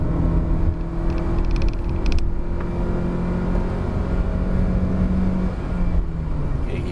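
A 2019 Proton Saga with a 1.3 litre engine climbs Genting Hill in low gear, its steady droning engine tone loud and constant inside the cabin, with road rumble beneath and no voices.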